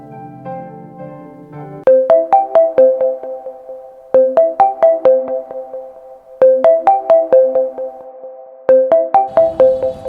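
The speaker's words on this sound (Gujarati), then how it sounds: "ફરી પાછો એ ફોન" A phone ringtone plays a repeating melodic pattern of plucked notes in four loud phrases, starting after a short lead-in and ending with a click.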